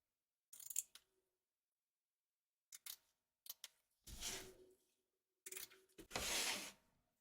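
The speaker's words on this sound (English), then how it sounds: "Trim away the excess fabric from the stitch line of the nose, taking care not to cut your stitches." Scissors snipping excess fabric away from the stitched nose of an appliqué teddy toy: a few crisp, close snips spaced apart, then two longer rasping cuts, quiet with silence in between and no speech.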